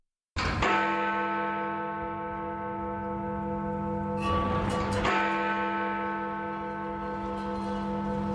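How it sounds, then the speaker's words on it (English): A clock strikes at night with a loud, resonant bell-like chime that rings out and sustains, its tone swelling again briefly partway through. "The clock struck 3,"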